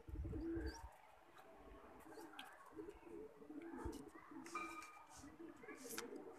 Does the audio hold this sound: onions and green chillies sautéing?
no